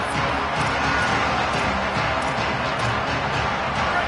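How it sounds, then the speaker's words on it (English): A dense, roaring wall of crowd noise fills the air steadily, loud and unbroken, a packed college football stadium cheering on a third down. "The crowd electric, trying to help Tech on this third down."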